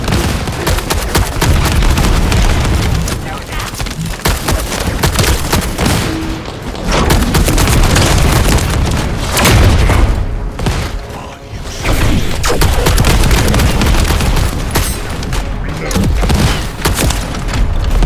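Precision bomb explosions in the video game The First Descendant roar in a dense, continuous barrage of booms and gunfire-like bursts, loud and close with almost no pause throughout.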